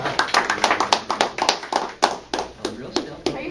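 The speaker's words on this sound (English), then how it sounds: "Applause, everyone." A few people in a medical clinic clap in sparse, uneven bursts, each clap distinct and close, with voices talking faintly underneath.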